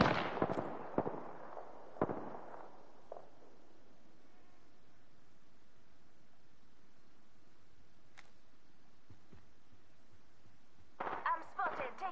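Gunfire in the battle royale game Apex Legends: a few sharp shots and cracks at the start, then a long near-silent stretch, and a final quick burst at the end.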